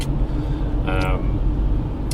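Steady car driving rumble from inside a moving car, constant low road and engine noise with a brief tonal whine near the middle, heard close and continuous.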